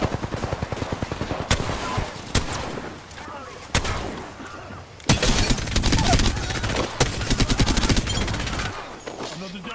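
Rapid bursts of automatic gunfire from a match of the video game Apex Legends, loud and close, with sharp single shots between sustained volleys and voices talking underneath.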